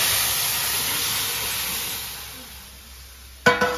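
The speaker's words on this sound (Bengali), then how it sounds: "এখন এই কচুর তরকারিটা এই ফোড়নের মধ্যে এখন ঢেলে দেবো।" Taro curry poured into hot spice tempering bursts into a loud, steady hiss of sizzling oil that gradually fades, ending with a brief clatter of the pan.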